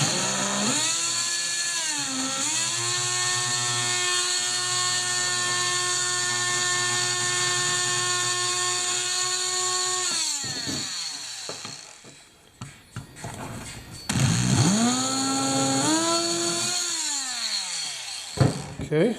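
A power saw whines at high pitch as it cuts, with two long passes separated by a short pause, sounding loud and close.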